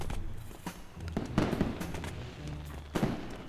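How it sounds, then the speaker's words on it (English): Fireworks burst in the video game A Hat in Time, a run of sharp cracks and pops scattered over a few seconds, with heavier booms near the middle and end, moderately loud against a low game-music bed. "Why the fireworks?"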